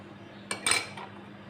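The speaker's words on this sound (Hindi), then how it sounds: "इसका कंटिन्यू आपने हिलाना है दूध को।" A spoon knocks and scrapes against a pot while stirring thickened milk with cornflour for kulfi falooda, a brief cluster of metallic clinks over a quiet background.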